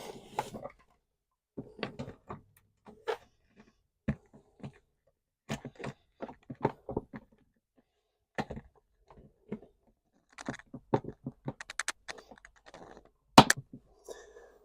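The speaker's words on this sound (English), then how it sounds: "There it goes, nice satisfying click." A plastic water valve piece from a Dometic 300 Series RV toilet clicks free, pried with a flat blade screwdriver; sparse close clicks and knocks of plastic scattered across the stretch, with a sharper snap near the end.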